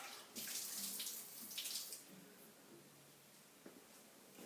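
Fresh water runs from a tap in a steady, close rushing stream that is loud at first, then eases slightly and continues alone.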